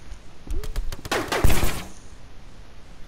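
Rapid video game gunfire rattles out in a quick burst of sharp shots, a dense volley packed into about a second, then trails off to quiet, with a faint voice briefly audible.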